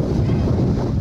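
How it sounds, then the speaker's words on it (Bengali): Strong, cold sea wind buffets the top of a seaside watch tower near Digha's beaches, a loud, continuous roar that fills the whole moment. "ভালো, ঠান্ডা হাওয়া।"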